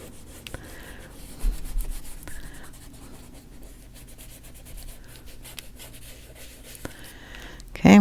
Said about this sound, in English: We're just going to blur these together just by rubbing it.